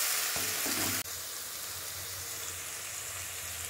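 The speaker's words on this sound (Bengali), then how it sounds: "পেঁয়াজটা কিন্তু বেশ সুন্দরভাবে কষা হচ্ছে" Onions frying in a pan for egg curry give a steady, close hiss of sizzling oil. A brief clatter of stirring comes near the start, then the sizzle runs alone and evenly.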